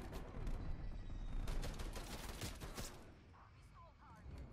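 TEC-9 submachine gun firing in Call of Duty: Black Ops Cold War, a quick run of rapid shots in the first few seconds, fairly quiet, fading into softer game ambience.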